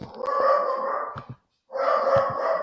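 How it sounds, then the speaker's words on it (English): A dog barks close and loud in two drawn-out, whining bursts separated by a brief silence, with no talk over it. "that's my dog barking right now."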